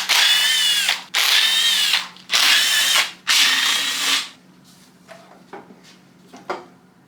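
A power tool spins off the fasteners on a BMW engine's valve cover in four loud, sustained bursts, followed by quieter clicks and clanks of parts being handled, with no talking.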